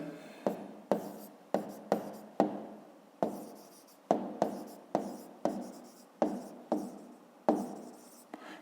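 A pen or pencil scratches out numbers by hand in a quiet room, with about fifteen short, crisp strokes coming in irregular clusters, each one rising sharply and fading.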